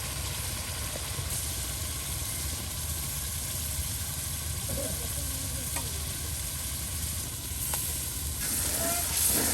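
A paste of ginger, cumin, garlic and onion sautés in a pan for a chicken and yam dish, giving a steady, loud sizzle with occasional stirring scrapes and faint voices.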